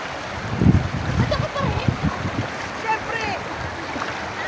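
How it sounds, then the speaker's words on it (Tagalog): Fast-flowing, very clear river water churns and splashes steadily, with gurgling bursts near the start and a constant watery hiss throughout. "Malakas din ang agos ng tubig eh."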